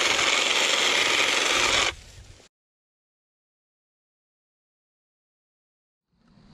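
An IMOUM cordless hedge trimmer runs with a loud, dense buzzing whir for about two seconds, then drops to a faint rattle and cuts to silence.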